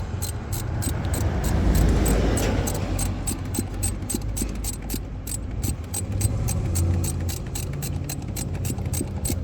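Bolts on a 2006 Chevrolet Impala power steering pump being snugged down with a ratchet, giving a steady run of rapid, close clicking pawl strokes over a low background hum, with no talk.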